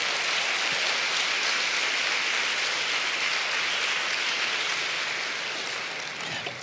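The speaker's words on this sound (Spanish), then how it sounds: "Vamos, dele palmas al Señor por eso." A church congregation applauds the Lord, producing a dense, steady wash of clapping from many hands that holds evenly and fades slightly near the end.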